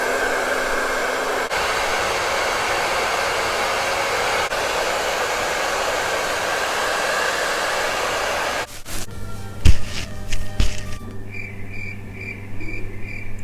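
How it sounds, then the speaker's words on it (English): A hair dryer blows with a steady, loud airy roar for about eight seconds, then cuts off, leaving quieter clicks, knocks and handling sounds. "The next thing that we need is a hair dryer"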